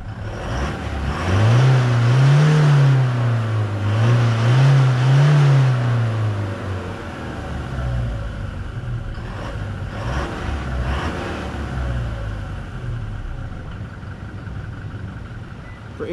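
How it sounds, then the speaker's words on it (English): A Toyota Hilux Rogue Edition diesel engine idles nearby, then revs in a few rising and falling surges before settling back to a steady rumbling idle, with no talking. "Now I'll show you how the Hilux sounds like."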